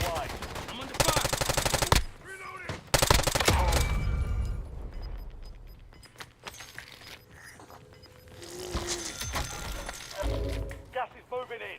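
Rapid bursts of automatic gunfire in a video game, loud rattling volleys at the start followed by scattered quieter shots, with voices talking throughout.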